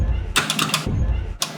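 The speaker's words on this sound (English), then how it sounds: "which is me hitting the sign" A hand strikes the PAX Aus sign twice in quick succession, each hit giving a sharp, bright metallic slap with a short ringing decay, close and fairly loud.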